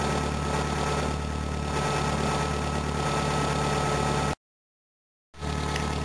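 An old Volvo's engine idles steadily with a constant low hum and the faint mechanical whine of its fuel pump, with the air conditioning off, briefly cutting to silence before resuming.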